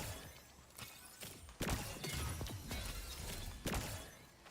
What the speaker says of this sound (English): It gives me the noise to let me know that I have popped a shield.